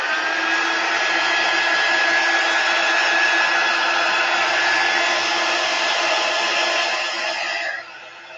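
A hair dryer blows steadily and loudly on painted macrame beads, a continuous airy whine that holds for about eight seconds before cutting down at the end.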